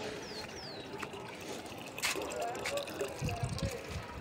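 Water poured from a bucket trickles and splashes steadily onto the soil and leaves of rooftop garden plants nearby, with a couple of bird chirps early on and some faint talk.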